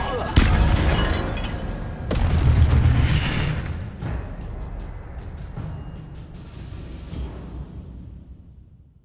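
An Incendio fire spell cast in the video game Hogwarts Legacy: a loud, close burst followed by a second booming blast and a long fading roar, with sharper impacts scattered through the decay.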